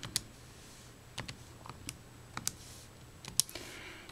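Light clicks from keys pressed on a calculator keypad, a few irregular taps spaced out over quiet room noise, close and faint.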